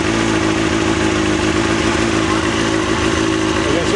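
Kawasaki ZXR400 motorcycle engine running steadily close by, a loud, continuous rough drone with a strong low hum throughout.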